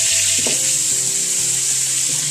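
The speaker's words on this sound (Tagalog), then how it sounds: "O yan mga madam, igigisa na natin." Snails sautéing in a hot pan for ginataang suso give a steady, loud sizzle that runs the whole time, with a few clinks and stirring knocks near the front and no talk.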